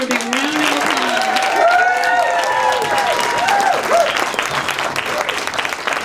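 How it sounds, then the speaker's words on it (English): An audience applauds a speaker at the 2016 Progressive Summit, with sustained, loud clapping and some cheering. A voice carries over the top with tonal calls, and the ovation holds steady throughout. "Help me give her one more big round of applause."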